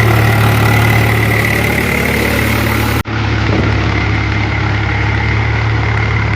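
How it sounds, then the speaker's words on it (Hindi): Tractor engine running while ploughing a field for rice planting, a loud, steady droning hum close by, with a brief dropout midway before the throbbing resumes. "सो फाइनल दोस्तों ट्रैक्टर खेत में चल रहा है"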